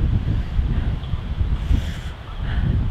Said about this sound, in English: it's so windy and cold out here.